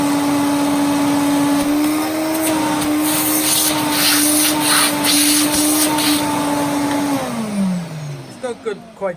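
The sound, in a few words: refurbished Electrolux 347 vacuum cleaner running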